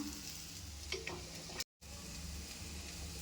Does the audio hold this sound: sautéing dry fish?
yes